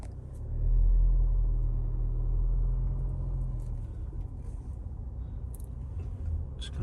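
Low engine rumble of a 2021 Land Rover Discovery Sport D165 diesel R-Dynamic S Plus moving slowly around a car park, a steady close drone swelling briefly early on, then settling into an even idle-like hum.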